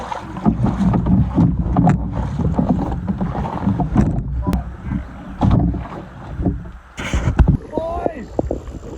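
Canoe paddled across a lake on a Boundary Waters Knife Lake loop, with steady water splashes and gurgles of paddle strokes mixed with wind noise and people talking throughout, then a brief quieter moment near the end.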